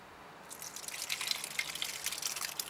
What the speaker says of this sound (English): as soon as you pour something in there, the juice is going to come straight out